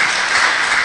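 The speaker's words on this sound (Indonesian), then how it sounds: "Oke, tepuk tangan dulu" Applause from an audience at a talk show in Kupang, a dense, steady burst of clapping, loud and close, filling the whole short moment without pause.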